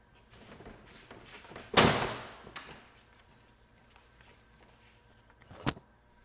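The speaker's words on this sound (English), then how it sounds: "reach underneath this molding and pull directly forward on the bumper" Front bumper cover of a Honda HR-V pulled forward off its molding clips: one loud close plastic pop and rattle, then a softer thunk a few seconds later.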